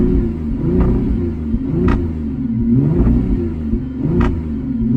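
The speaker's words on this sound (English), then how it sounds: "let's give it some more gas." A warmed-up salvage Audi A5 engine revving repeatedly, a steady mid-pitched drone rising and falling in a few throttle blips with sharp crackle-like pops at the peaks, close and loud with no talk.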